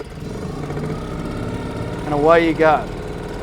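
A small pull-start boat engine runs at a steady mid-pitched drone as the boat moves off, holding close and constant under a man's spoken instructions.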